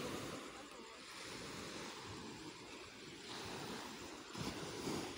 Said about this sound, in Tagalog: Kahit madaling araw ay nandito pa rin kami nasa tabing dagat.